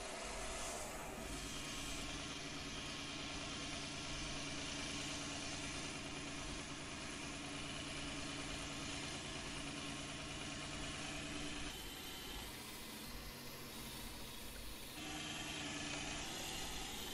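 Tractor engine running steadily in Farming Simulator 19, a continuous mid-pitched drone that stays loud and close throughout with a slight shift in tone near the end, no talking.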